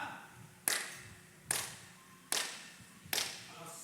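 Hands clapping at a Christian sermon gathering, four loud, sharp claps spaced evenly about a second apart with quiet between them.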